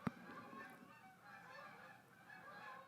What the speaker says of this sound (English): I don't know if you can hear the snow geese flying over.